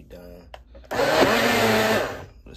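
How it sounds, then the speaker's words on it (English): A small personal blender whirs loudly and steadily for about a second and a half while blending a high-calorie drink, after a few quiet knocks and a faint voice beforehand. "Got my little blender. And I'm gonna get back with y'all after I blend that bit."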